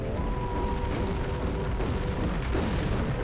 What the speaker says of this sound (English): Okay, so there's a lot of explosions and shit.